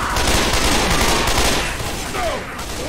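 Gunfire in the Left 4 Dead zombie shooter, a steady loud barrage of shots and battle noise running almost the whole time, easing off near the end.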